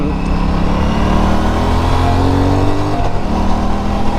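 An Aprilia RS 457 motorcycle engine under way on a test ride, loud and close, with a steady droning note that rises and then drops as the revs change.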